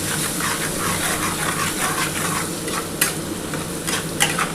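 Onions fry in oil and are stirred in a pan while preparing a sea fish curry, a constant close sizzle broken by scraping strokes and a few sharp clinks.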